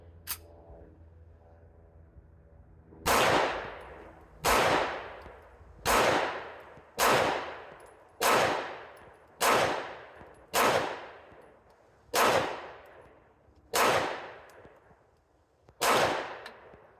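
Ten sharp pistol shots from a Girsan MC P35 Hi Power clone firing FMJ rounds at an outdoor range, loud and close, spaced about a second apart with slight pauses near the end, each shot followed by a brief echo.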